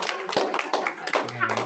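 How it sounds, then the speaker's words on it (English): A small group on an online leadership club call claps briefly, a few close, uneven hand claps and taps, with a voice and some talk mixed in. "Maybe we can all give Phil a round of applause."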